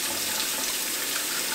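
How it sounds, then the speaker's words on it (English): Water pours steadily onto locs while the hair is being washed and soaked, a close, loud, unbroken rush without any talk. "I'm going to drench my hair. My hair needs to be soaked."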